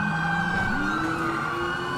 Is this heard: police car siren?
yes